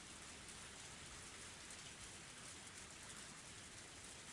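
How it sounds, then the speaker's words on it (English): Pouring rain in the Higurashi visual novel, a dense, steady hiss of heavy downpour on surfaces that continues unbroken and fairly quietly throughout, with no voices. "The sound of the pouring rain filled the silence."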